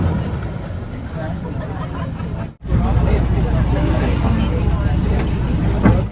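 A long-tail boat engine drones loud and close on a Krabi island tour in Thailand, a constant low roar mixed with wind and water rush, briefly cutting out before surging back.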